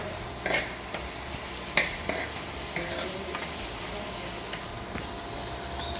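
Misal ingredients being sautéed in a pan for spicy Puneri misal: a steady low frying hiss with a few sharp scrapes and clinks of a spoon against the pan, near and alone.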